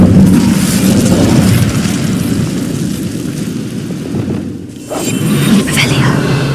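Incendio fire spell cast in Hogwarts Legacy: a loud, roaring whoosh of flame that dips briefly, then bursts back strongly, with game voices in the mix.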